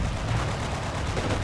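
Rapid machine gun fire in the World War II shooter Forgotten Hope 2, set in the fall of Tobruk: a dense, continuous roar of overlapping shots holding steady throughout the moment.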